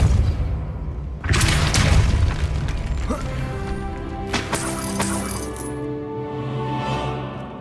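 A Repulsor spell cast in Hogwarts Legacy, a loud booming blast with a sharp onset followed by ringing, clinking magical debris and a decaying rumble, set against game ambience.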